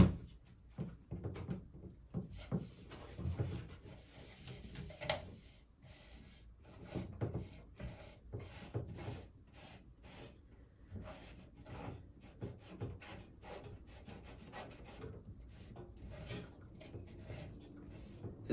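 A damp rag wipes dusty, greasy parts of a Lasko 3733 kitchen fan in repeated soft rubbing strokes, quiet and close.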